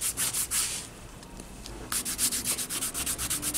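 A lightweight curved pedicure foot file rubs across the skin of a foot in quick, close, rhythmic strokes, a short pause in the middle before the scraping resumes at a steady pace.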